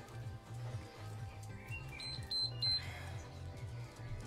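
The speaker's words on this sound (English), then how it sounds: "Ignore the beeping." Quiet electronic beeping in a home workout setting, short high tones rising over a low pulsing hum, faint and in the background.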